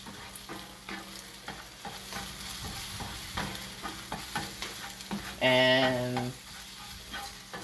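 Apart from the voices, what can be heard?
frying food in super hot pan for fried rice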